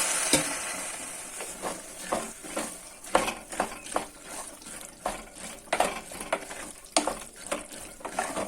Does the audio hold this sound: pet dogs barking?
no